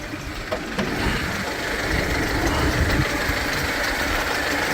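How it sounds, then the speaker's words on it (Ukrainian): A minibus engine idles steadily just after starting, a continuous low rumble with a faint knocking texture, close and alone without voices. "Двигун завівся."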